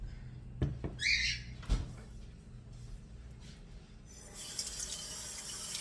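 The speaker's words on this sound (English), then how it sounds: "Wash the bowl out." Bowl washing under a kitchen tap while making an old-fashioned mincemeat pie: a few clunks and knocks of dishware, then the tap opens and water runs steadily into the sink at close range.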